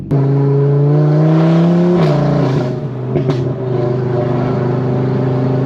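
Deep, loud exhaust drone from a VW Golf MK7 with an RS3 conversion and back box deleted, heard from inside the cabin at low revs with the engine still cold, holding a steady boomy tone with a brief dip midway.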